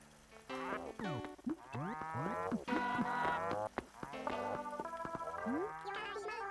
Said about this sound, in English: the gyroids sound like cows mooing